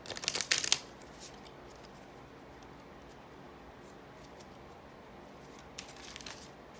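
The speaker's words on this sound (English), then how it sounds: "Let me just give these a quick shuffle." Oracle cards get a quick shuffle, with a short flurry of papery riffling at the start, then quiet room noise and a few faint card flicks later.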